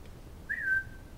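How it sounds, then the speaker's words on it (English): A single short rising-then-steady human whistle, quiet, in an indoor room with faint background noise and no speech. "Did he just whistle at you like you're a carrot?"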